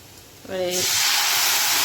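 Garlic paste, made from four large chopped garlic cloves, poured into a hot pan and hitting it with a sudden loud, steady sizzle that starts partway in and holds to the end, with a brief tonal sound just before.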